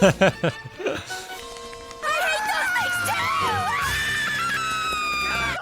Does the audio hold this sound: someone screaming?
yes